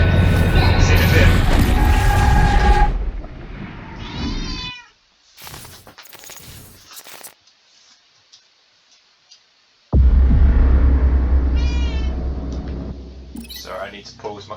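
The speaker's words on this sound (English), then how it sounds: "My cat wants to go out." Pet cat meowing insistently to be let out, several clear drawn-out meows in bursts separated by quieter gaps, with game sounds and talk around them.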